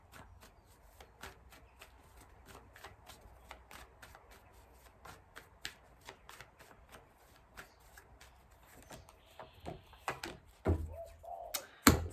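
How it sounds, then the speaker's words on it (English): Tarot cards being shuffled by hand, a long run of soft rhythmic flicks and riffles repeated steadily, ending with a few louder handling knocks and thumps. "and you see me shuffling"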